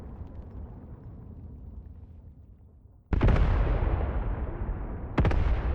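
Scheduled artillery shrapnel strikes a small village in Graviteam: Pivot Point: a low rumble gives way to two sudden loud, broad explosive blasts with long roaring tails, no voices.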